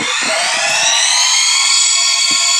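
A loud, steady electronic siren alarm blares continuously in a Minecraft PE lab map, a dense high-pitched wail with a few faint clicks underneath.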